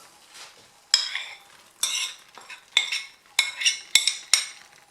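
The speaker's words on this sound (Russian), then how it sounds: "Теперь хорошенько все это мешаем, чтобы они все соединились друг с другом и с соусом." Chicken breast, forest mushrooms and onion are stirred into a sauce in a pan for julienne, making repeated wet, squelching scrapes and soft clinks of the spoon in an irregular rhythm of about six strokes, close and with no talking.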